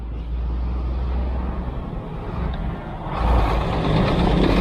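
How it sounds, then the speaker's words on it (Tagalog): Large trucks rumble past on a road near Harangan Street toward Makabud in Rizal after rain, a steady low engine drone that swells louder toward the end, with faint reversing beeps possible in the mix. "Ito lang problema dito, yung malalaking truck."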